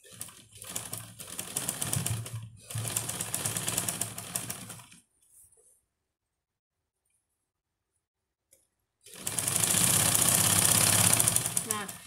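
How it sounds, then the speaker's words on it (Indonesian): A sewing machine stitches around the edge of a fabric bed sheet, several close bursts of steady running, a long quiet gap, then one sustained run; no talk is heard. "sekarang akan kita jahit sekeliling ya teman-teman, selesaikan keempat sudutnya"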